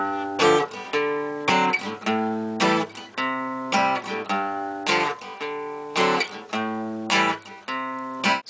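An acoustic guitar strums the chord progression of a song in a choppy, syncopated rhythm. Sharp strums alternate with ringing chords, played close and clear with no voices.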